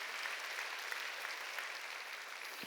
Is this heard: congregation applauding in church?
yes